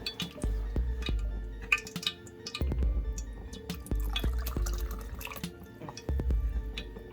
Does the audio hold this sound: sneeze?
no